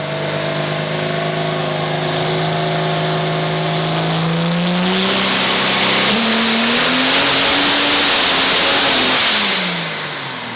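A 3000+ hp diesel engine roars on a dyno run, its loud, steady pull climbing in pitch through the middle of the run before easing off near the end, alone with no talk.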